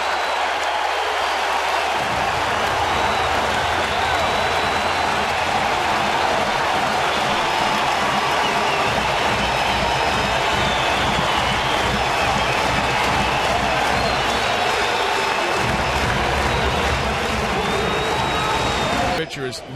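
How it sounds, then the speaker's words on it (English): A baseball stadium crowd roars after the Kansas City Royals take a 5-3 lead in 2014. The roar is broad and sustained at high volume and continues for the whole stretch, with a broadcaster's voice partly heard underneath. "And listen to this crowd."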